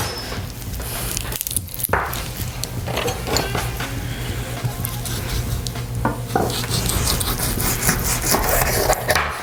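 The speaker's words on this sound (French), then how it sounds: "Aussi découper au niveau de la jointure pour avoir le haut de cuisse." A knife works through a whole raw chicken at the joint to free the thigh, with close, continuous scraping and cutting sounds against bone and a board, plus a short clatter, and no talk.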